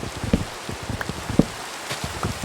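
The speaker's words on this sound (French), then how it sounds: "il pleut" Rain in the game Minecraft, a soft continuous patter of drops with scattered louder taps and small splashes, fairly close and irregular.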